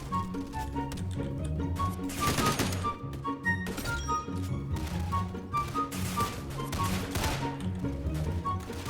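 Rapid, uneven bursts of gunfire from a strange custom-built weapon in a shooter video game crackle steadily over in-game music and effects, with quick cuts between kills.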